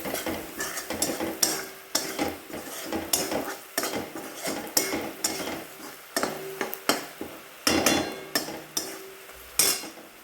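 Spices for dhaba-style dal tadka sautéed in a pan, with a spoon scraping and knocking against the metal in repeated stirring strokes over a soft sizzle.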